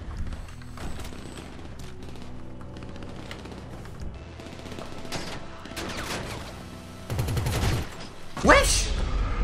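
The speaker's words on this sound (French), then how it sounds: "Ce sont des tirs d'élite, eux!" Sniper gunfire in the video game GTA Online, scattered sharp shots and bursts over steady game sound, with a louder crack near the end and people talking over it.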